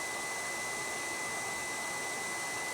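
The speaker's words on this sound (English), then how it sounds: "It's still blowing hot air." A hot air rework station keeps blowing, a steady, soft, even hiss of airflow with a faint high whine running throughout.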